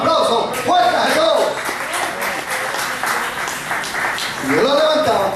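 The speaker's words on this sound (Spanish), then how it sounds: "Quiero un aplauso fuerte a Jesús." A church congregation applauds in a loud, sustained wash of clapping, with voices calling out over the applause.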